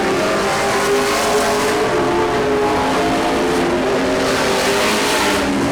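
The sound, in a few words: race cars on track, Grand National heat race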